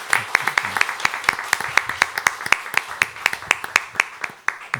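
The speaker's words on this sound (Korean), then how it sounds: "우리 따뜻한 박수로 한번 먼저 축하를 드리도록 할까요?" A church congregation gives a warm round of applause during a Sunday worship service, steady clapping from many hands in a large sanctuary, fairly close and even throughout.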